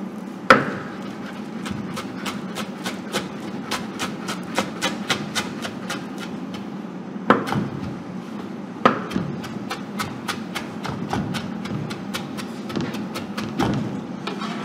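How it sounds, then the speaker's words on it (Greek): Knife chopping fresh coriander on a cutting board in a professional kitchen, a fast, steady run of close, crisp taps with a few heavier knocks, heard alone with no talk. "Κόβουμε τώρα και το κόλιανδρο."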